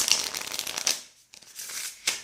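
A deck of standard playing-card-sized tarot cards is riffle-shuffled up close, making two quick papery ripples with a short pause between them.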